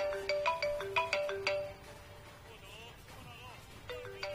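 A mobile phone ringtone plays a bright, repeating melodic pattern for about a second and a half, fairly close, then stops and briefly resumes at the end, with quiet background noise between.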